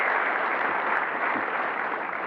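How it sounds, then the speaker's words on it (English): An audience at a technical conference session claps together in a brief, dense burst of applause that holds steady and loud for a couple of seconds. "Yes, clap."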